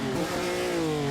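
A race car engine in Assetto Corsa, a 1948 Gran Premio di Napoli racing simulation, revs at a steady high pitch with a slight rise and fall, loud and close, alone without voices.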